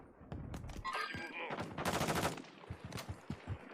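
Bursts of rapid gunfire from a battle royale video game match rattle in quick volleys alongside a few single shots, fairly faint, with game sounds and players talking over it.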